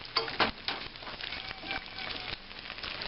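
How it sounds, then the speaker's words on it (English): Eggs frying over easy in a hot pan on a breakfast stove, a steady soft sizzle and crackle with a few sharper pops, fairly close and alone with no voices. "to fry us up some eggs"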